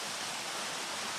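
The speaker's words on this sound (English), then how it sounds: "this is a good thing to find, actually, is a waterfall like this" A mountain waterfall swollen after days of rain, heard as a steady, dense roar of rushing water filling the whole short stretch without pause or voices.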